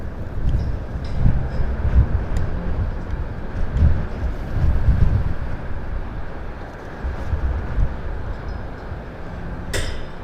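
An Embraer 190 jet, a BA CityFlyer airliner inbound to Southend Airport, gives off a steady, fairly distant broadband roar with a low rumble that swells and eases over several seconds, with no voices.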